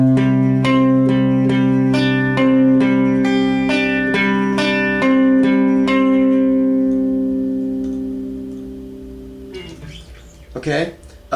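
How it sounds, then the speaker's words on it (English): Guitar plays the C riff of a song slowly: clear, evenly spaced picked notes ring loud and close for about nine seconds, then fade out before a brief scuffing noise at the end. "now for the C riff. It would sound like this slowly."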